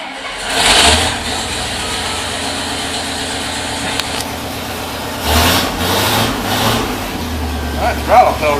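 The engine of a 1973 IH Loadstar Blue Bird bus runs at a steady loud idle, then swells in a few throttle blips and revs toward the end, with a voice talking over it.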